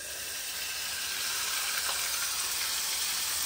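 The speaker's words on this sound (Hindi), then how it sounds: "हम लोग डालेंगे इसमें झींगा, ताकि झींगा थोड़े सॉटे हो जाए" Prawns sauté in a hot pan, giving a steady, even sizzle and hiss that holds without pause and grows slightly louder toward the end, with no talking over it.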